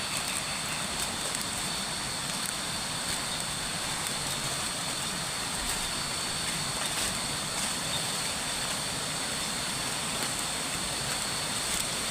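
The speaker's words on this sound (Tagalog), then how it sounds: "Sobrang lakas ng sapa." A strong rushing mountain creek swollen by heavy rain, a dense, continuous broadband roar of water with no breaks, close and steady throughout.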